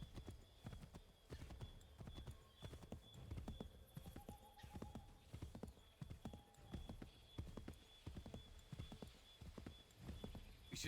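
Horse hooves clip-clopping in the Assassin's Creed game, a steady rhythmic gallop of close, distinct hoof strikes throughout, with an occasional whinny and faint voices talking underneath.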